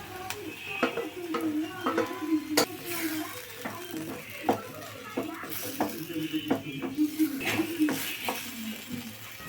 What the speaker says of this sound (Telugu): సో ఇప్పుడు మనం ఆల్రెడీ బాయిల్ చేసుకున్న పాస్తా ఉంటుంది కదా, అదైతే ఇందులోకి వేసేసుకోవాలి. వేసేసుకొని బాగా మిక్స్ చేసుకోవాలన్నమాట.